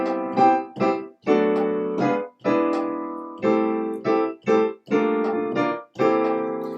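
Syncopated big band style jazz piano part playing a jazz chord progression, with short accented chord stabs in an irregular rhythm, clear and close with no talking.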